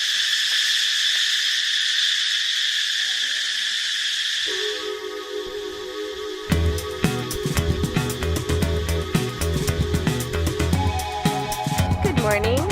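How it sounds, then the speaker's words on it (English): Loud insects in Pai, Thailand, make a shrill, steady buzzing drone that dominates the first few seconds before music takes over. "Listen to these bugs."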